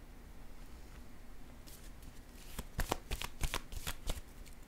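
Playing cards are handled and laid down during a reading: a soft rustle leads into a quick series of crisp slaps and flicks, close and clear, with no talking.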